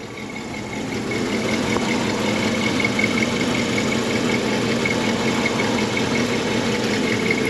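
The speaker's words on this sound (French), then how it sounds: "C'est doux, c'est régulier. D'ailleurs, le moteur ne vibre même pas." A 1958 Buick Special's 364 cubic inch V8 idles smoothly and evenly, a loud, steady low rumble with a continuous mechanical hum that holds unchanged throughout.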